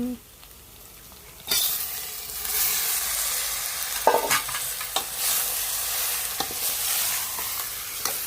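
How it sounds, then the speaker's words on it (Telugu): Onions and chicken frying in a pan outdoors among green fields, a loud steady sizzle starting abruptly after a quiet opening, with scraping stir strokes and clinks over it throughout. "ఉల్లిపాయలు బాగా బాగా మగ్గినాయండి"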